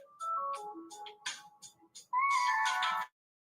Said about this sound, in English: I got a call coming in.